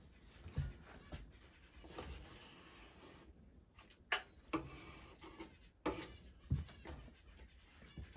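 A knife slabs thick, inch-size slices for supper, giving a few soft cuts and sharp knocks against a board, spaced irregularly and quiet, with faint rustling in between.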